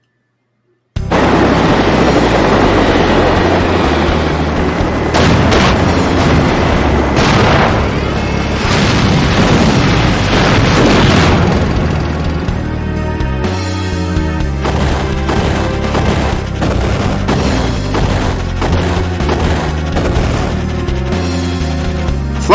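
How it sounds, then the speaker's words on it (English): Battle scene in Final Fantasy IV with loud, continuous booming explosions and crashing gunfire, dense and sustained for about twenty seconds after a brief silent start. "Fly right in the middle of gunfire."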